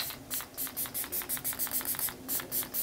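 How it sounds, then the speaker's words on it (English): Facial setting spray mists onto the face in a rapid run of about fifteen short, hissing pumps, evenly spaced and close, with no talk. "So I'm gonna go ahead and spray some because I didn't put any on today."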